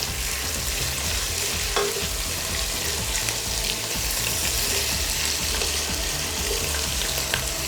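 Curry leaves, pandan, spices and peppercorns fry in hot oil for tandoori chicken biryani, giving a loud, dense, continuous sizzle with stirring clinks and scrapes and no talk.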